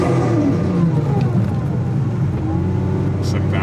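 A Mazda RX8 with a swapped 1JZ-GTE VVTi turbo engine droning loudly as it revs and pulls, rising and falling pitch under a constant close roar, with a voice talking over it.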